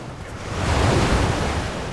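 Waves wash steadily onto a shore with a broad, rushing hiss that swells and holds, mixed with wind buffeting the microphone.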